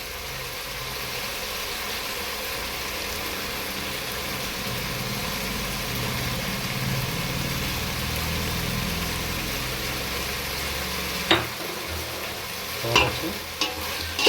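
Vegetables with chili powder frying for a vegetable biryani, a dense continuous sizzle with a low hum beneath, broken near the end by a few sharp clinks of a stirring spoon against the pot.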